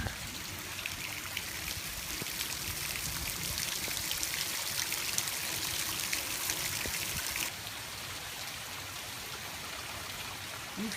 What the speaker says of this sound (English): We've had at least 5 inches of rain, and it's gonna keep coming.